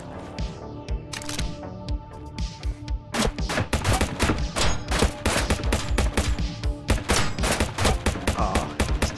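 Automatic rifle fire in the VR shooter game Shotwood, loud rapid bursts of close gunshots in quick succession, with enemy shots mixed in, nearly continuous throughout.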